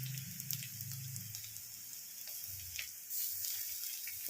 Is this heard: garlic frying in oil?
yes